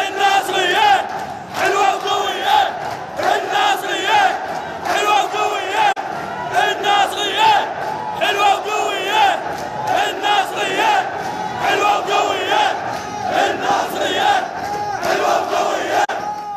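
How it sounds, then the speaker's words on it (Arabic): Street protesters near a shopping mall in Baghdad chant slogans in unison, with loud rhythmic crowd voices rising and falling in repeated phrases for the whole stretch, close by and continuous. "دعونا نستمع ونشاهد جانبا من هتافاتهم في المقطع التالي."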